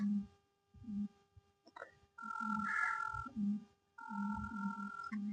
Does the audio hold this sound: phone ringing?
yes